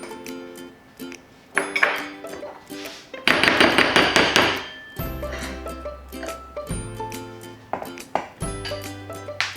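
Dry salt, baking powder and baking soda stirred together in a bowl for einkorn chocolate chip cookies, giving a run of clinks and taps of utensil against the bowl, close and fairly loud, with no talking.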